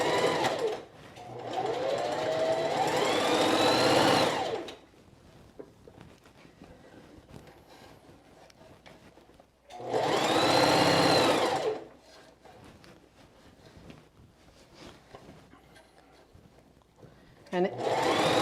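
A sewing machine stitches a seam on a quilted jacket in two sustained runs of steady whirring, close and loud, with quiet pauses between, and a voice talks in the gaps.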